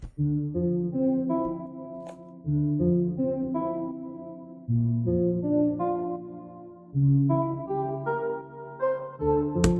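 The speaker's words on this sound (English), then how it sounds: "So next I added this pluck sound" Strummed synth pluck chords for a vintage R&B sample play alone, each chord's notes rolling in quickly one after another, repeating in a steady progression of sustained harmonies.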